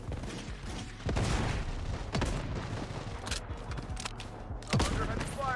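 Rapid bursts of gunfire in the video game Bloodstrike crackle and boom through dense, busy game audio, with several loud volleys and sharp impacts layered over a steady background of action.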